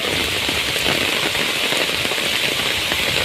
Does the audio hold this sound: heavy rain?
yes